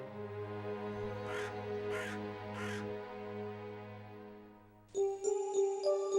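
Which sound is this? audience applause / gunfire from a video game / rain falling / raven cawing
raven cawing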